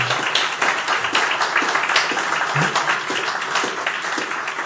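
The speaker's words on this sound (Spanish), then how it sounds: "¿Por qué no le damos un aplauso a las hermanas anfitrionas?" A church gathering applauds the hostess sisters in continuous, moderately loud clapping that stays steady for the whole stretch and eases slightly near the end.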